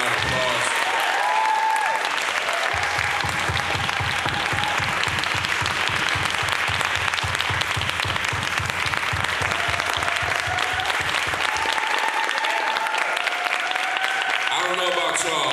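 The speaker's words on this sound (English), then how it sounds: "these panelists, another round of applause" Sustained audience applause for a panel at a Palestine teach-in, dense and steady throughout, with a low rhythmic music or drum pulse running beneath much of it and some crowd noise mixed in.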